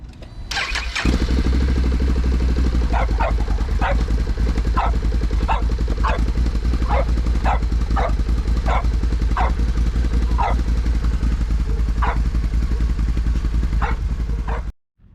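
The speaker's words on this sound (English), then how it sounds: "we ran the bike for just like under a minute" A Can-Am XMR 1000 off-road machine, freshly given an oil change, cranks and starts, then runs steadily and loudly up close for about fourteen seconds before cutting off, with a dog barking repeatedly in the background.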